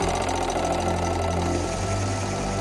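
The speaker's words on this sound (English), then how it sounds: "I would way rather have an engine that runs good and looks bad than vice versa" A Bing Weeden toy steam engine runs steadily, its fast, even mechanical chuffing and clatter sounding close and continuous, with no talking.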